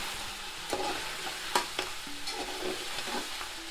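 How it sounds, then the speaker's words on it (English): Lamb sizzles steadily in a pan for biryani, a constant crackling hiss broken by occasional scrapes and clinks of a utensil, close up with no speech. "The meat's still frying."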